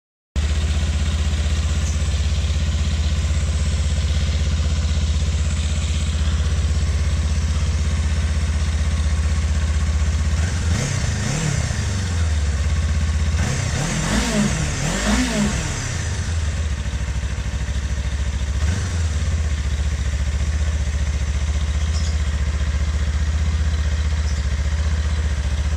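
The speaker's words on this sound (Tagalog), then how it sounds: "So tingnan natin guys yung yung stock sounds niya." A 2025 Kawasaki Eliminator 450 on its stock exhaust idles steadily up close, then gives several quick throttle blips in a cluster before settling back to a low, even idle.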